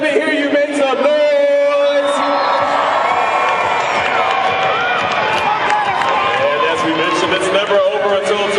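Roller derby crowd at a DC Rollergirls bout between Scare Force One and the Majority Whips, cheering, whooping and yelling loudly in a large hall, a sustained roar after an announcer's voice at the start.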